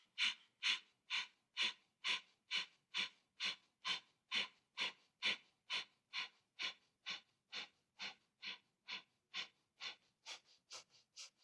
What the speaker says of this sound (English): exhale a little bit and forcefully exhale